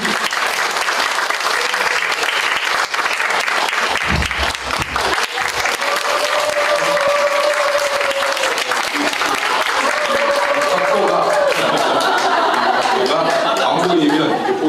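A church congregation breaks into sustained, dense applause at a revival prayer meeting, the clapping loud and continuous while some voices and chuckles mix in beneath.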